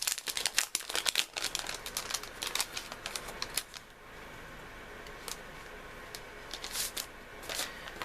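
A paper package holding craft papers is pulled open, crinkling and tearing in quick, dense bursts at first, then settling into sparser rustles and handling sounds, close and moderately quiet with no talking.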